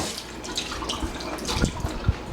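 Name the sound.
rinsing off under running tap water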